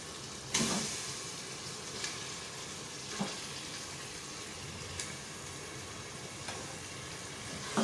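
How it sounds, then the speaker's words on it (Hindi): Mutton sizzles in a pot for degi mutton palak gosht, a soft steady frying hiss broken by a few light knocks and clatters at irregular intervals. "साथ ही अब इसमें मैं गोश्त डाल दूँगी"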